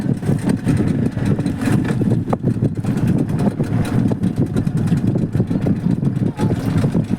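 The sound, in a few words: boat engine started and running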